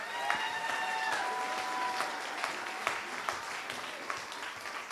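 Audience applause for a 7th and 8th grade middle school choir at a spring concert, sustained and steady for the full stretch, with a few sharper claps and brief cheering tones rising above the crowd.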